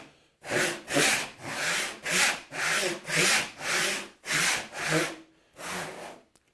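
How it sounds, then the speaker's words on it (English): A hand saw cuts a sliding dovetail in wood with long, full strokes that clear sawdust from the gullets, giving about nine rhythmic rasping pulls, close and loud, with no voices. "Taking the saw all the way back so that it's dumping all the sawdust in those gullets"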